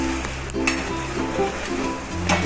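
Potato khichdi, a fasting-style dish, being stirred in a pot after lemon juice goes in, giving a steady soft sizzle with scraping spoon strokes and faint clinks throughout.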